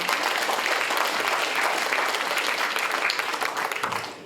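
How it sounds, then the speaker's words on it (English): A crowd at a Day of Remembrance program applauds the panelists, dense sustained clapping from many hands, loud and close, tapering slightly toward the end. "please applaud them"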